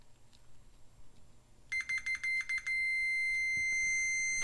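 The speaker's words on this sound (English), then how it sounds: "So when I connect this, it should start beeping immediately because it's normally closed." A beeper wired to a normally closed KSD-301 thermostat from a Nesco Metal-Ware CU-30 coffee urn sounds first in several rapid pulsed bursts, then as a steady continuous high electronic tone, close and clear over faint room noise.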